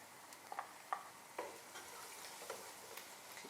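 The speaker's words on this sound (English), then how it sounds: "I'm going to stir this a bit" Food being stirred in a hot frying pan, soft scraping strokes and taps at an irregular rhythm over a quiet, steady sizzle, close and fairly faint with no talking.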